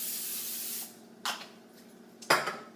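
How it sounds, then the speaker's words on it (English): Cooking oil spray hisses in two short bursts over asparagus spears on tin foil, following a longer steady spray at the start; close and clear, with no talking. "then what I do is I give it one more extra spray on top."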